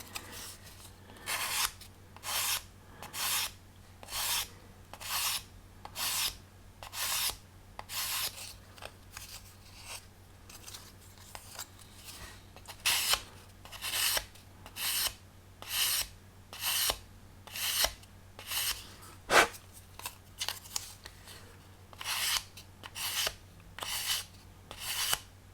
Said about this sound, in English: You'll see I'm trying to use the full length of the sander, and that means that ultimately I have less passes needed to do it.